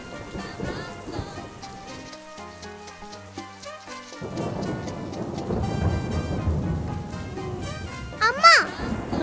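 Heavy rain with rolls of thunder, set against a voice and musical sounds; the rain hisses steadily through the second half, with a louder burst near the end.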